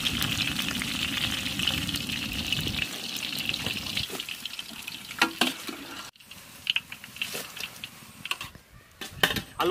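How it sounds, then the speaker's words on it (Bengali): Potatoes frying in a pot for a mixed vegetable curry, cooked in a large batch for villagers; a steady sizzle runs throughout with occasional scrapes and clinks of a utensil stirring against the pan. "আলু ভাজা হয়ে গেছে"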